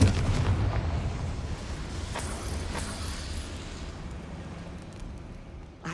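A Confringo fire spell blasts in Hogwarts Legacy, a deep booming explosion at the start that trails into a rumbling, crackling fade over several seconds.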